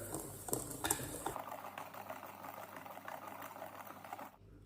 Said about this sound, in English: To mix the dry ingredients together